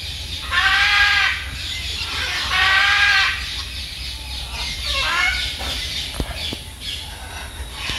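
Birds call in a quiet zoo, with several loud, repeated calls rising and falling in bursts over the first five seconds, then fading to softer chatter with a few sharp clicks.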